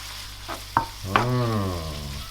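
Butter sizzles and crackles in a hot pan as a bolognese sauce base is started, with a couple of stirring clicks against the pan; close and steady, with no talking.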